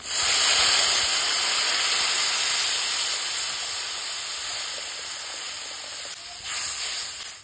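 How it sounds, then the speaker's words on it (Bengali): Water is poured into a hot pan of fried spices, salt and turmeric for a shoal fish and paper lemon dish, setting off a loud, continuous steaming hiss and sizzle that fades slightly and then briefly flares again. "ভাজা হয়ে গেছে, এবার আমরা জল দিয়ে দেবো।"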